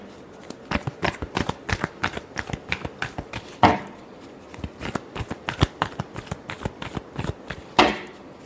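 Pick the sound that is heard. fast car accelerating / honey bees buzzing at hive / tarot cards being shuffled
tarot cards being shuffled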